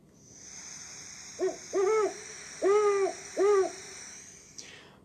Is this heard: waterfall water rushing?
no